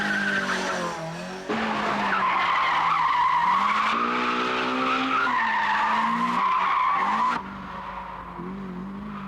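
Tires squeal loudly and continuously as a car drifts on a Japanese mountain pass, an AE86 tuned by specialist shops, the screech rising and wavering in pitch with a brief dip before resuming and tapering off at the end.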